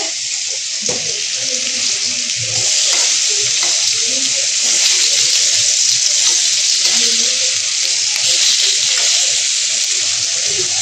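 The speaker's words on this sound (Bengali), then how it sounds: "আর এদিকে বেগুন ভাজা হচ্ছে।" Eggplant slices fry in a pan in a Bengali home kitchen, a steady broadband sizzle lasting throughout and growing slightly louder, with faint running-tap water and low murmurs underneath.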